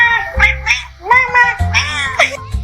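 A cat meows in a high, drawn-out pitch, several rising and falling meows in quick succession, close and loud with a low hum beneath.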